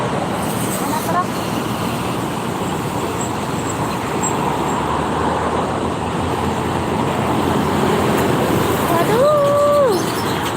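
Steady roar of cars and trucks on the Jakarta-Cikampek toll road at night in slow, busy traffic, a continuous loud wash of engine and tyre noise, with a vehicle horn blaring briefly near the end.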